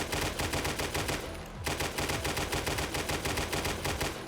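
A light machine gun in the video game 7 Days to Die, modded with COD Zombies perks, fires loud sustained automatic bursts with a brief pause in the middle before the rapid shots resume.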